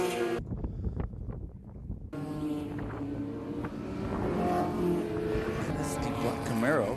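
Race cars at a FARA Memorial 300 endurance event, including a black Camaro, roar into turn 3 in a loud, sustained engine drone with rising pitches as the cars pass, after a brief lull near the start.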